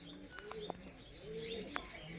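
Malwai pigeons coo softly in a close, quiet setting, with low rolling coos and a few brief higher chirps and a faint wing flutter over a couple of seconds.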